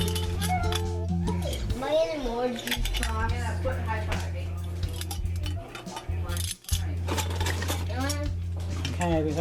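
Lids being screwed onto hot grape jelly jars, glass and metal clinks and scrapes heard under ongoing talk in a home kitchen.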